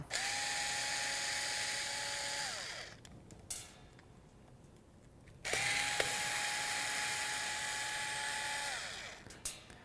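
Back-panel screws coming out of a Nomad battery pack with a low-powered Phillips driver, heard as two long steady whirring runs with a falling pitch at each end, a quiet gap between them, and a few short bursts, close up with no talk.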